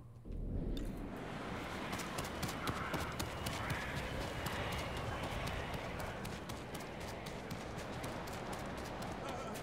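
Rapid hoofbeats of a galloping horse in the video game Ghost of Tsushima, steady and continuous, with a dense rumble of movement underneath for the whole stretch.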